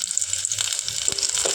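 Chopped onion frying in oil in a cooking pot, a steady bright sizzle with soft stirring clatter and small crackles, close and moderately loud, no talk.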